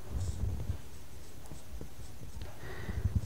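Pen or chalk writing out a class 9 geometry problem on lines and angles, heard as soft scratchy strokes in short bursts, near and fairly quiet, with no talking over it.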